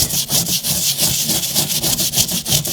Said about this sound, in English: I'm just kind of giving it a good scrub. I'm being aggressive with it.